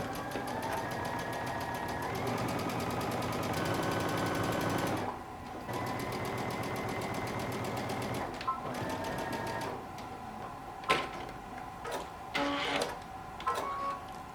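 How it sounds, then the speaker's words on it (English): A sewing machine stitching the side seams of a dress, running in a steady close whirring chatter for several seconds, pausing, then resuming, with fabric handling clicks in the quieter stretches. "we're going to start sewing, working our way from the bottom all the way up"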